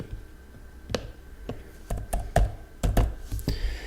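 A zip code is entered on a computer keyboard, giving a handful of crisp, close keystrokes in irregular quick bursts against a quiet room, with no talking over them.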